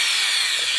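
A soil auger bores into garden ground, giving a short, steady, high whirring grind that holds level throughout and rises slightly at the very end.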